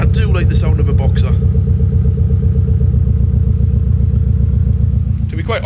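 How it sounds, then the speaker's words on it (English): A Subaru boxer four-cylinder engine idles with a steady, deep burble, loud and close, and brief mechanical clatters sit over the rumble at the start and end. "you'll all notice that Boxer 4-cylinder Subaru engine burbling away"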